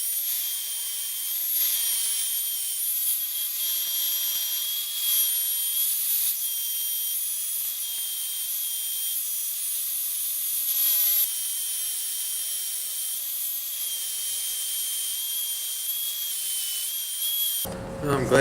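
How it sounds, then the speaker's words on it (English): Belt sander shaping a thin wooden beard comb: a continuous high whine and abrasive hiss, steady and close throughout, with slight surges as the wood is pressed against the belt, ending abruptly. "I ran it through the belt sander as long as I could stand"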